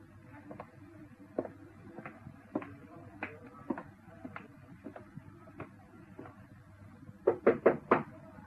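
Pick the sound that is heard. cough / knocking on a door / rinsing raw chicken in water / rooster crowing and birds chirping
knocking on a door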